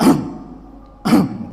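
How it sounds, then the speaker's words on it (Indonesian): Two loud, forceful throat clearings like big coughs, close and abrupt, separated by a short pause. "Berdehem tapi bukan berdehem batuk kecil, tapi seperti batuk besar."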